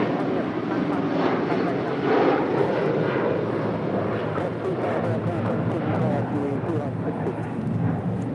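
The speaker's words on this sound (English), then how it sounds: "This is United Airlines Flight 8131 departing to Honolulu on a 757-300" A United Airlines Boeing 757-300 jet departing LAX for Honolulu, a broad continuous engine roar heard from a distance, steady throughout with a slight swell.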